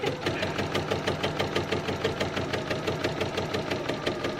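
A sewing machine running steadily while stitching up a seam line on fabric, with a fast, even mechanical rhythm, close and loud with no talk.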